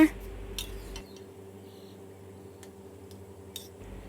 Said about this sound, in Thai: ใช้ตะหลิวแซะ และคนเบาๆ